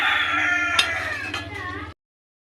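A rooster crows loudly and close, with hens clucking and a low steady hum underneath before the sound cuts off.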